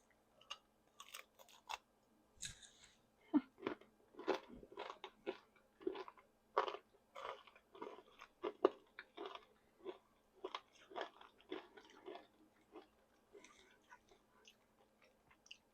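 Crisp crunching and biting from someone chewing homemade mini orange and ginger florentine cookies, a steady run of close, sharp crunches one after another with no talking.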